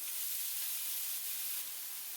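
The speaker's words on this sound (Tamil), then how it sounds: "எண்ணெய் சூடானதும் இதில் நம்ம நறுக்கி வச்சிருக்க 2 வெங்காயம் சேர்த்துடலாம்" Two chopped onions dropped into about two tablespoons of hot oil in a pan, giving a loud, steady, close sizzle and hiss that holds without a break and has no talk over it.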